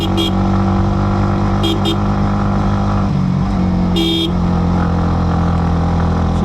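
A Ninja motorcycle engine drones steadily while climbing the mountain road to Keokradong in Bandarban, loud and close, broken by several short horn toots from nearby vehicles.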